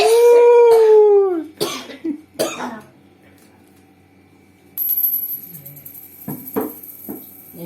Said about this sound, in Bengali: বাবা কাশি উঠেছে